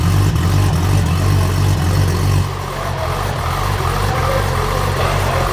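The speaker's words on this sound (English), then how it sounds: "it opens the valve up, makes it nice and loud and rowdy" Nissan S13 with a swapped RB26/30 engine and an AES dump valve held open, running loud and close with a steady rumble that settles after a couple of seconds into a lower, rougher drone.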